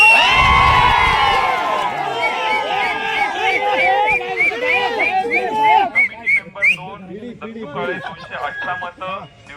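Union election supporters erupt in a crowd celebration, with loud cheering, whoops and shrill whistles layered over shouting voices, fading into scattered yells and calls toward the end.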